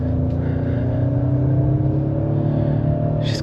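A 2025 Ford Explorer ST-Line with a 300-horsepower 2.3L engine and all-wheel drive pulls hard from inside the cabin, a loud, steady engine drone climbing gradually in pitch with no talking.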